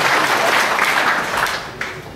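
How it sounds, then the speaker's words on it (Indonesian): An audience at a Buddhist monastery talk claps in a continuous, loud wash of applause that holds steady and then eases slightly toward the end, with no speech over it. "Tepuk tangan terus."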